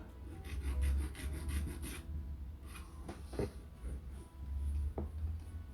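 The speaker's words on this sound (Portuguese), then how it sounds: "Aí com a lixa você vai acertando os detalhes." A nail file rasps back and forth while shaping a stiletto nail, making close, quick rhythmic scratching strokes in bursts with a brief lighter pass between them.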